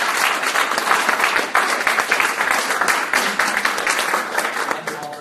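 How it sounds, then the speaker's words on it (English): A panel audience at a clean energy event bursts into sustained, dense clapping that holds steady for several seconds before easing slightly at the end. "Can I get a round of applause for the panelists?"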